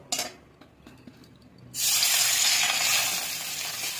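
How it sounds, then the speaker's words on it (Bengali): Fish seasoned with salt and turmeric hits hot oil in a home kitchen: near-quiet clinks for a moment, then a sudden loud, steady hiss of frying that holds to the end. "তেল গরম হয়ে গেছে,"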